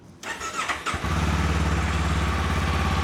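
A Kawasaki Ninja 500 motorcycle with its stock exhaust cranks and catches, then settles into a steady, low, rumbling idle close by.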